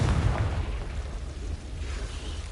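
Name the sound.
Confringo explosion spell in video game Hogwarts Legacy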